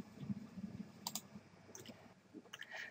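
Computer mouse clicks while an autotrading platform's currency list is opened, a few sharp, quiet clicks scattered over a low background hum.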